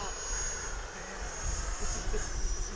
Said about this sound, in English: Just to show you how slow this plane will fly.